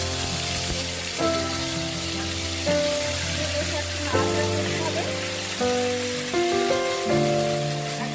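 A ginger, fennel and green chili paste masala fries in a pan, giving a steady close hiss and crackle that runs throughout. A background tone shifts in steps beneath it.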